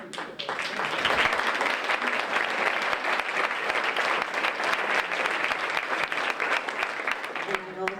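Sustained applause from a large crowd at a district attorney candidate debate, a dense steady wash of clapping lasting several seconds before it starts to taper off.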